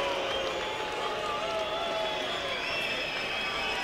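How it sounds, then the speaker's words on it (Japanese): Crowd at a featherweight ten-round boxing bout between Kennedy McKinney and Nestor Lopez, a dense, steady wash of arena noise with booing and whistling, heard alone without talk. "またブーイングです"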